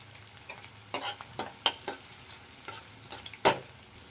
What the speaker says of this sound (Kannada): ಈಗ ಇದಕ್ಕೆ ಒಂದು ಸ್ವಲ್ಪನೇ ನಾವು ಸಾಸಿವೆ ಹಾಕ್ಕೊಳ್ಳೋಣ